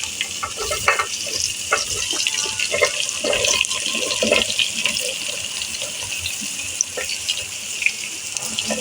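Chopped bottle gourd stirred in a frying pan with cumin, a loud, dense sizzle with rustling, watery spatula strokes throughout, close up with no speech.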